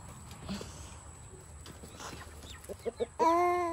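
Hens in a farmyard clucking impatiently as they wait to be fed, several short calls building to a louder, sustained squawk at the end, close by over low background noise.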